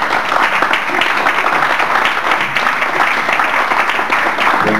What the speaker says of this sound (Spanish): otra vez el aplauso cariñoso de ustedes